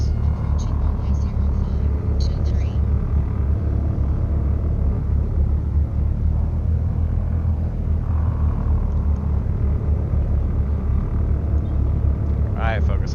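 Tecnam P2006T twin-engine light aircraft in X-Plane taxiing after landing, its engines holding a steady, continuous low rumble near idle throughout with no breaks.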